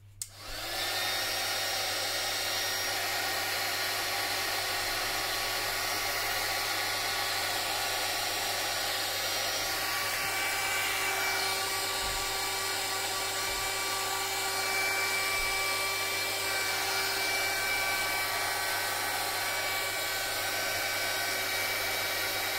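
A hair dryer blows steadily over a salt and PVA rust-effect craft piece, a close, continuous whirring hiss that runs evenly throughout with a few faint knocks underneath.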